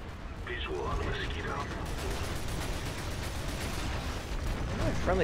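Rapid mechanical gunfire rattles in the sci-fi shooter game Planetside 2, busy and continuous in the middle of the clip, while voices talk over the battle at the start and end.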